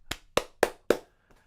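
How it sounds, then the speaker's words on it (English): Four sharp, evenly spaced hand claps ring out close and clear in a quiet room, followed by a faint fifth tap. "Clap, clap for everybody indeed."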